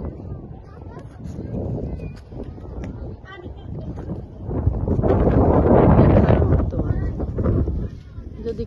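Wind blows across the Buriganga River at a ghat where water hyacinths drift, buffeting the microphone in low, rough gusts that swell strongly in the middle of the clip before easing off.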